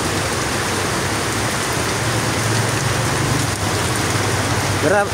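Very heavy rain pouring down in a dense continuous roar during flooding in the Philippines, steady and loud throughout with no break.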